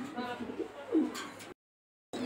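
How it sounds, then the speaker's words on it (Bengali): Racing homer pigeons of the Afshan grizzle type coo close by in a brief, soft, rolling call over faint background murmur, then the sound cuts off abruptly to silence before resuming. "তো চলুন আমরা আরেক জোড়া কবুতর দেখি।"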